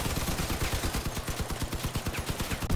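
Rapid automatic gunfire from vehicle-mounted weapons in a vehicle combat video game, a dense, loud, continuous rattle of shots throughout with no pauses.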